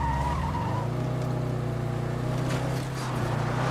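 A car in the video game State of Decay 2 drives hard and skids, a steady engine drone under a long tire squeal, loud and close, with no talk.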